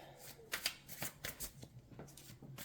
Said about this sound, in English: it's really hard to shuffle these.